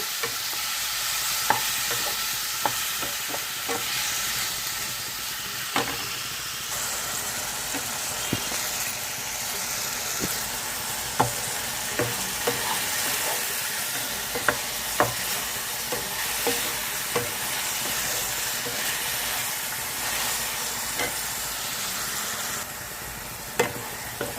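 Half a kilo of tomatoes for a tomato coriander chutney cook down in a pan with a steady low sizzle, broken by scattered clicks and scrapes of stirring throughout.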